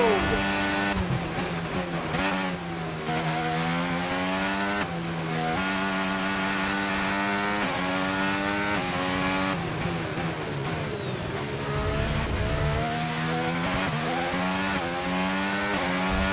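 Formula 1 race car in the F1 25 video game lapping the Qatar circuit, its high-pitched engine whining steadily and loudly throughout, with rising and falling revs through gear changes and corners.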